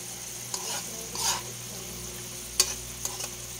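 Pork tocino frying in a pan without added water, with a soft steady sizzle and a few sharp utensil scrapes and clinks from stirring, up close.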